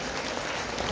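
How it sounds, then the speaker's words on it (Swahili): An audience bursts into applause, a dense, loud wash of many hands clapping that fills the whole moment evenly without pauses or voices. "Tũpigie makofi."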